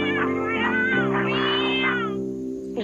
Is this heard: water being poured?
no